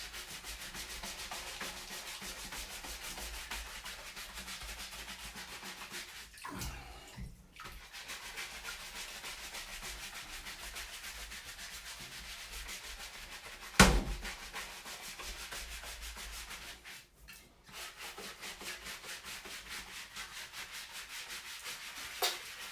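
Steady rough rubbing and scrubbing of grains against skin in a bathtub, a continuous coarse friction texture with brief pauses and one sharp knock partway through.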